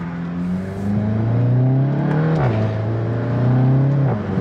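A VW Golf MK7 GTI accelerates hard uphill, its engine note climbing loudly from inside the car, dipping briefly at two gear shifts with sharp exhaust cracks, and no one speaking.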